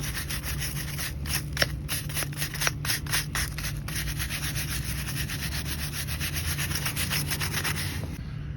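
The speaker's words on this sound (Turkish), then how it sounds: "Bu yüzden bugün spiralle bunları kesip sonra taşlayıp uçlarını düzelteceğim." An angle grinder cuts through metal ends with a continuous harsh, abrasive rasp. A few sharp scraping bursts come early, then it grinds on evenly and close by without a break.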